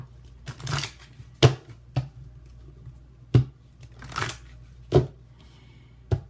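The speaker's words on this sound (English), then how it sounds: "let me pull some love cards for you" Tarot cards being shuffled and pulled for a love reading, heard as several separate crisp riffling and snapping bursts, close and fairly quiet, with no talking.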